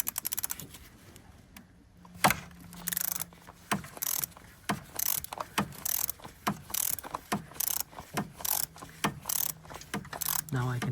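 Ratchet with a 24mm socket working on the oil filter housing of a 2015 Vauxhall Zafira 1.4 petrol, giving quiet, close, irregular bursts of clicking with short pauses between strokes.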